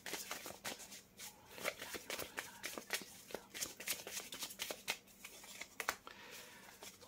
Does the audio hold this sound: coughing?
no